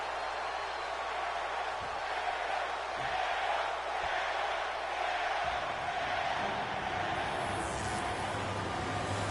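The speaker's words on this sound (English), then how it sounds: "And just listen to that crowd." Wrestling arena crowd in a WWE video game roars in a steady, dense wash of cheering that fills the whole stretch, loud and continuous, with a low rumble shifting partway through.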